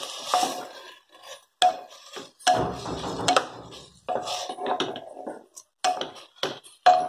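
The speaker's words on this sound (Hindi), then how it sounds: "इन सबको अच्छे से फ्राई कर लेंगे।" Cauliflower, peas and potatoes stirred in a pan, giving intermittent clinks and scrapes of a utensil against metal in short bursts with brief pauses, moderately close.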